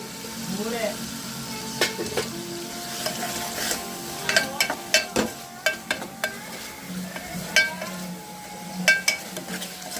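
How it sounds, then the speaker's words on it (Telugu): Tomatoes and masala cook in a pan, a low sizzle broken by repeated sharp clinks and scrapes of a spoon stirring against the metal, close by and with no one talking. "టమాటాలు మగ్గుతున్నాయి చూద్దాం టమాటాలు మగ్గుతూ ఉంది కదా మగ్గుతూ ఉన్నాయి కదా మసాలా వేసుకుందాం"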